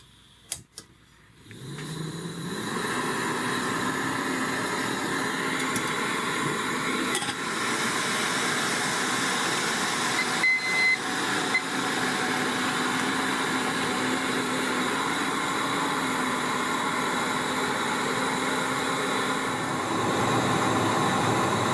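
An Optimus camping stove with a clip-on windshield lights with a few clicks, then settles into a loud, steady roaring hiss that runs unbroken to the end, with an occasional faint tick.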